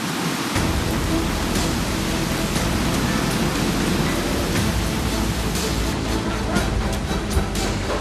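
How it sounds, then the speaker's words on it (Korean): Rain pours steadily onto a rooftop garden construction site, a loud, constant broadband hiss that carries on throughout with no voices. "다음 날 잔뜩 흐리던 먹구름이 결국 비를 뿌리기 시작했다."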